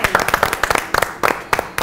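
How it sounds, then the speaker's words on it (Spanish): Short burst of audience applause on a Saturday variety television show, choppy and uneven clapping under a loud host voice that keeps talking over it. "Rubén Goñi, fuerte el aplauso para él"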